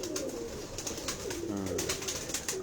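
A prized female racing pigeon in a loft coos in soft, repeated rolling phrases close by, over light scratchy background noise and no talk.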